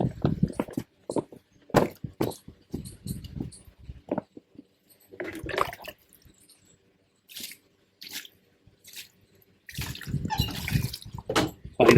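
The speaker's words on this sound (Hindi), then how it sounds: "तो दोस्तों अब इसमें पानी डालेंगे" Water poured from a mug into a grow bag holding a dieffenbachia cutting, heard as several short splashing bursts separated by pauses, close and fairly loud, with a voice talking in between.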